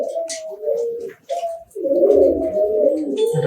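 Pigeons cooing in a loft on a pigeon farm, several close, throaty coos rolling one after another with some faint chirps around them.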